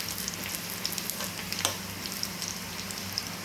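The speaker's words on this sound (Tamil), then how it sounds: "சின்ன உள்ளி சீரகம் கடுகு போட்டு பெருஞ்சீரகம் போட்டு கொஞ்சம் தாளித்து மீனை கொட்டிக்கோங்க" Fish frying in a tempering of shallots, cumin, mustard seeds and fennel for a fish curry, a steady close sizzle and crackle with small pops throughout and no voices.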